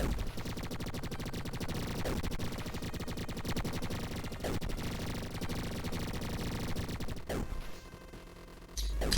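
Rapid gunfire from the Mars Commando video game plays as dense, continuous bursts at steady loudness, with a brief lull near the end before firing resumes.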